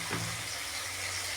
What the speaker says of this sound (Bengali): এখানে আমি টমেটো, লঙ্কা আর রসুন বেটে রেখেছি, এগুলো দিয়ে আমি কাঁচা গন্ধ যাওয়া অবধি কষিয়ে নেব।